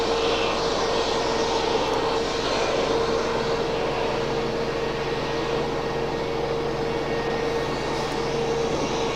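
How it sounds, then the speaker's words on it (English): A UPS Boeing 757 jet roars steadily past a runway end at Raleigh-Durham, a loud continuous engine drone with broadband whine that holds level throughout, no voices over it. "So there is the UPS 757"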